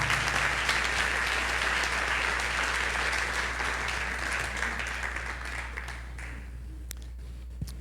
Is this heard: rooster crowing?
no